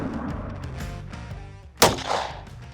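A single loud shot from a cursed homemade gun cracks out near the middle, sharp and close, preceded by low ambient rumble and followed by a brief ringing tail.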